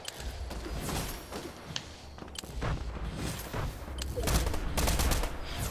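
Gunfire from a Fortnite zero build squads match crackles in bursts at mid distance, with scattered shots and rumbling thuds layered over a busy, steady game soundscape.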